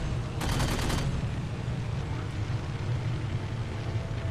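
Gunfire from the Halo 4 campaign comes as a brief rapid burst of shots near the start, followed by a lower steady in-game rumble with no talking.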